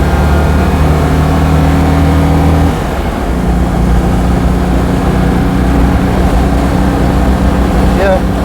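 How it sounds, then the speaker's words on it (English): A Citroen 2CV flat-twin engine fitted with a race cam and a worn crankshaft runs loud and close, with a steady rough idle throughout and a slight shift in pitch around the three-second mark. "how much of this engine noise is knackered crankshaft and how much is because it's got a race cam in it"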